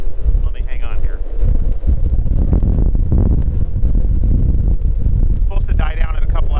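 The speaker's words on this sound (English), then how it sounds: "This has got to be blowing mid-50s, gusting to 60." Strong wind gusting to about 60 mph buffets the microphone in a steady roar with low rumbling gusts, while a person talks loudly over it aboard a boat in foul weather.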